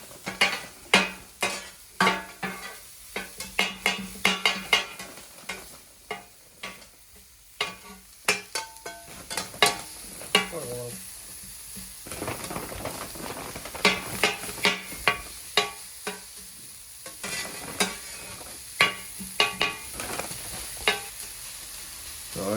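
Chopped onions sizzling and frying in a pan while being stirred, with repeated scraping and clattering utensil strokes over a steady hiss, close and moderately loud, no talking, made in a home kitchen for goat koththu.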